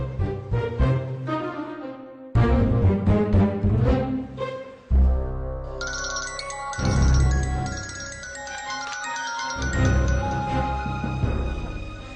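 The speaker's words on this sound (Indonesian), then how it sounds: "Bener tuh suara handphone kamu" A mobile phone ringtone plays as a bright electronic melody in short repeated phrases, loud and tonal, in an Indonesian comedy series, with no talking over it.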